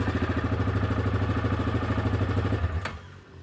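A 2020 Yamaha Grizzly 700 EPS XT-R ATV engine runs close by with a steady, throbbing rumble for nearly three seconds, then drops off sharply near the end.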